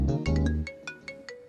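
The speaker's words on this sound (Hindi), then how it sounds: "अरे हाँ, उसी का फोन आ रहा है।" An incoming call sets a mobile phone ringing with a bright electronic melody of quick plucked tones in a repeating pattern, close and clear with no speech.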